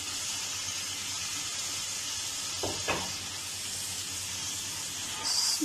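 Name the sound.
fried chicken added to sizzling masala gravy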